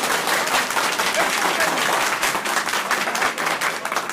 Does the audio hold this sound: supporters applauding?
yes